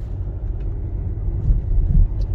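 A car rolls through town streets with a low, steady engine rumble heard from inside the vehicle, swelling slightly toward the end, with no voices.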